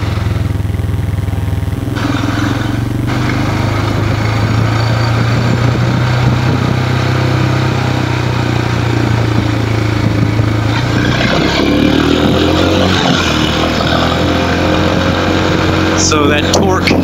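A 2018 Royal Enfield Himalayan single-cylinder engine labors in low gear up a steep hill, a loud steady drone with its pitch rising and falling under throttle, and wind rush around it.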